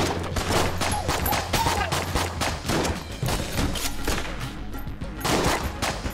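An unfinished pistol fires in Enter the Gungeon, letting out a fast, continuous stream of sharp shots that rattle on steadily at close range for the whole stretch.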